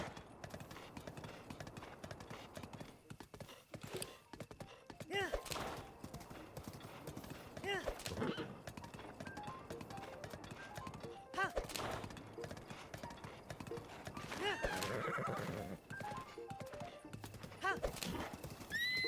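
Horse hooves clip-clopping in The Legend of Zelda: Breath of the Wild, a busy irregular patter of hoofbeats over game ambience with occasional whinnies, moderately faint throughout.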